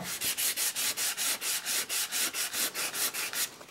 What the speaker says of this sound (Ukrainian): Зараз я візьму ще шкурку і затру.